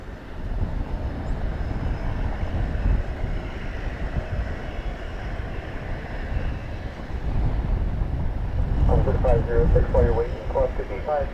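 An American Airlines Airbus A321neo bound for Las Vegas takes off at Dallas Fort Worth airport, a steady engine rumble building gradually, with someone talking and brief radio chatter near the end.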